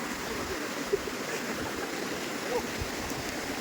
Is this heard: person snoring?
no